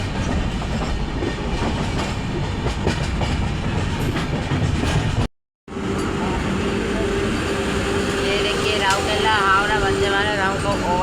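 Gitanjali Express train running at speed with steady loud rumbling and clickety-clack, a brief dropout midway, then another passing train overtaking alongside, with a horn-like tone and voices in the background.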